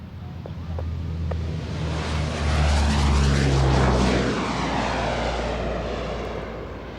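At RAF Waddington Airshow, a plane's engines roar as it gets airborne, loud and close, swelling to a peak before easing. A low droning tone sweeps in pitch as it passes, with wind buffeting the microphone.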